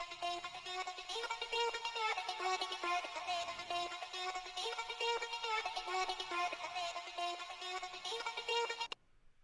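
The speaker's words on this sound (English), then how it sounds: "It's a cool psytrance lead." A psytrance synth lead, buzzy and harmonically rich, plays a steady rhythmic pattern of rapid repeating notes at constant loudness, alone, ending in a sudden stop.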